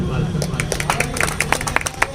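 An audience at a mushaira Urdu poetry gathering claps in quick, uneven bursts, close and fairly loud. Someone speaks over the clapping.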